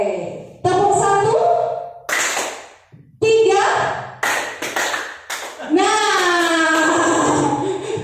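A classroom group plays a counted clapping game, clapping in short bursts on cue between stretches of speech, with a voice calling out numbers and children's voices mixed in.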